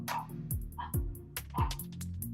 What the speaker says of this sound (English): dogs are barking. I think somebody came by.